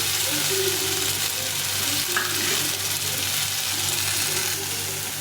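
Ground chili paste fries in a pan as the base for a shol fish curry. It makes a loud, dense, even sizzle with faint stirring scrapes underneath and no speech.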